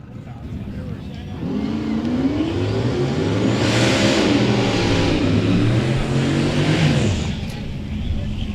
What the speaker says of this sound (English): Race cars rumbling.